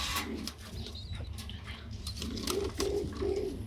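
Pigeons coo in a breeding loft, soft repeated low burbling calls layered over a busy background of more birds and faint rustling, with a few distinct coos standing out near the end.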